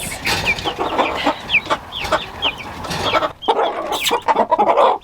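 Chickens, including young roosters, clucking and peeping busily in a close, noisy flock, with short chirpy calls throughout.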